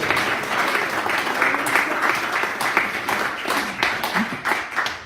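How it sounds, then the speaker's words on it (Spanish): Church congregation clapping hands during worship, a dense, continuous patter of many hands with some rhythmic swells, fairly close and filling the room. "dele palmas, désela fuerte"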